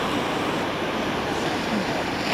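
Ocean waves wash onto the sand at The Sands during a seaside wedding, a steady close roar of surf and wind filling the background without a break.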